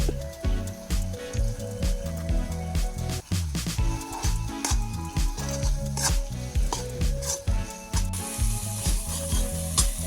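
Spice paste for a cauliflower curry sizzles and spits in a hot pan with occasional stirring clatter, under steady background music.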